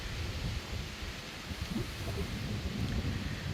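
Wind gusting across a churchyard, a steady broadband rush with soft swells and buffeting on the microphone, fairly faint and continuous with no voices.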